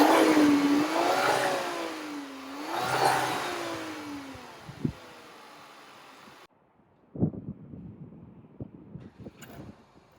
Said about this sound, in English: I know you want to hear this thing crank up,